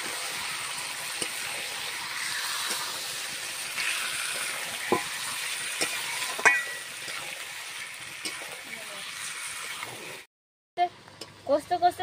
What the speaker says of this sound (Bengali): কষতে কষতে দেখো এই যে তেল বের হয়ে গেছে